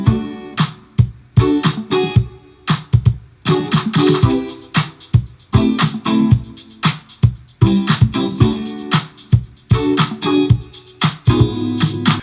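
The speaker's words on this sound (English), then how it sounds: "So I took the chords he was playing and I just doubled them on a couple synths," Layered chords doubled on a Prophet 5 and the Diva software synth, part of a beat built with Output Arcade, hit in rhythmic stabs with sustained harmonic tones, loud and up front with no voices.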